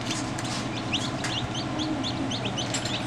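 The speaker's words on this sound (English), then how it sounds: "So we've got two chicks." Newly hatched chicks peeping in rapid, repeated high chirps, close and fairly faint over a steady low hum, with no talk.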